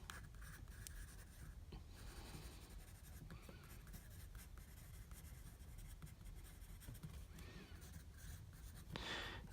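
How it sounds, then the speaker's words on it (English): A Palomino Blackwing 602 pencil writes steadily on notebook paper, giving a soft continuous scratchy rasp close to the microphone with a few brief strokes and lifts; no talking. "I find this paper is really nice to write on with a pencil"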